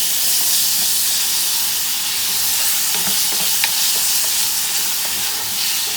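Green peas and egg stir fry with tomato sizzling and being stirred in a hot pan, a steady broadband fry hiss with light scraping clicks of the spoon, close and continuous with no talk.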